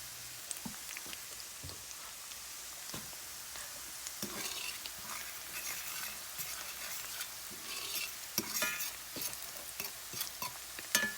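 Onions cooking down in butter in a pan sizzle softly and continuously, with frequent clicks and scrapes from stirring over the top, heard up close with no talking.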